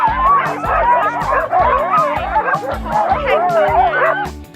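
Excited Alaskan husky sled dogs in the Arctic bark and yip in rapid, overlapping bursts, loud and close, with whiny howling tones between the barks throughout.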